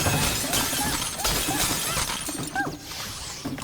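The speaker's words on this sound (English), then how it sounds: "So we get all the vases smashed here." Vases smashing in the video game Astro Bot: a busy run of crashing ceramic breaks and tinkling shards, with repeated loud impacts layered over one another throughout.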